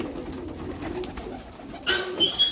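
Soft pigeon coos murmur in the low range from a coop over a rustling background, followed by a few sharper flutters and bursts near the end.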